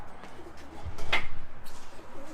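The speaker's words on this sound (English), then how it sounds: "So I better put this bird back." A pigeon coos softly from close by during a live sale of breeding pigeons, and the cooing rolls on in a low, repeated pulse under handling noise.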